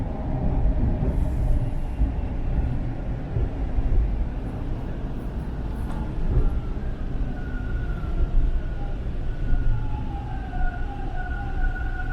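A Toronto subway train pulls into Lansdowne Station with a loud, steady rumble and rising wheel squeal, the rolling roar filling the platform for several seconds.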